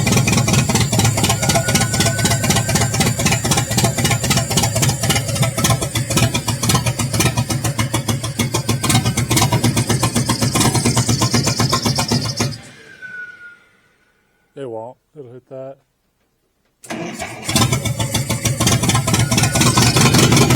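An Allis Chalmers engine on a LeRoi 125 CFM air compressor runs on gas with a steady, rough, close mechanical drone, cuts out for a few seconds with faint sputters, then roars back to life.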